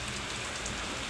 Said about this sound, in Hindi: ये देखिए कितना बारिश हो रही है।